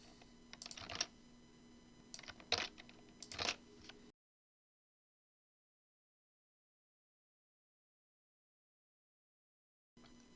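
Rapid keystrokes on a computer keyboard, with copy and paste shortcuts being entered, clatter in close bursts for about four seconds before everything drops to silence.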